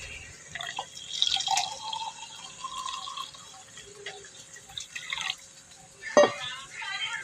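Warm water is poured into a cup holding a spoonful of drink powder, a light trickle with scattered drips and one splashy burst near the end, while a voice talks.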